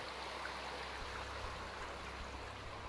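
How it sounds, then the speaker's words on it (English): In Gold Rush The Game, water pours into a gold pan as a soft, steady rushing and trickling that runs unbroken at low volume. "But we also have to fill this pan with water also."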